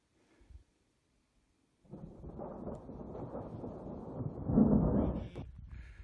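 Thunder rolls in after a lightning strike near Deadhorse Lake in the high mountains, a low, distant rumble that builds over a few seconds, swells to a peak and then fades.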